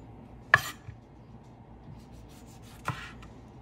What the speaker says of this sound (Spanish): Picamos el jitomate.